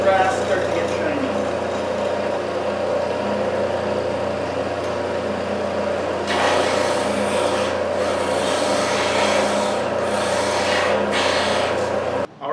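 Brass pen part rubbed against a spinning disc: a continuous smooth rubbing hiss over a steady low motor hum, growing louder and grittier in the second half, with short pauses near the end.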